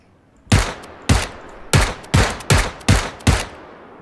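Seven loud, sharp gunshots in PUBG (PlayerUnknown's Battlegrounds), fired one at a time at an even, steady rhythm, each crack ringing briefly and close.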